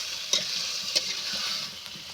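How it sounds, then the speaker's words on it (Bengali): Potatoes frying in a pan and stirred after the lid comes off: a continuous close sizzle with two sharp utensil scrapes near the start and softer stirring afterward. "আলুটা ভালো করে কষিয়ে নেব"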